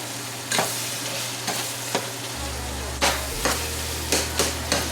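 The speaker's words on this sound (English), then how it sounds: "We're gonna add our potatoes, and I'm just gonna mix it all up." Potatoes stirred into ground beef in a pot for sopa de concha con carne molida, a steady sizzle with several distinct scraping strokes of the spoon, close and clear, no talking.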